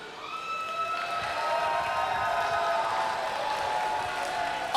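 A wrestling arena crowd cheers and applauds, a steady, moderately distant roar of many voices and clapping that swells slightly and holds, with no talk over it.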